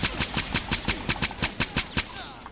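A Beretta 92 93r service pistol in Fallout 4 fires about a dozen sharp shots in rapid, even succession, each one loud and punchy, before the shooting stops near the end.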